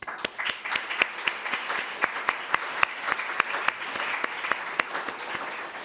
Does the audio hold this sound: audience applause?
yes